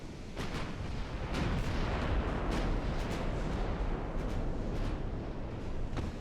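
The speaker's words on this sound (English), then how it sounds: "another salvo from enemy battleship is going towards my heavy cruiser" A naval artillery salvo in Ultimate Admiral: Dreadnoughts, heard as a steady low rumble of distant booming gunfire with repeated sharp reports scattered throughout, moderately faint, with no talking.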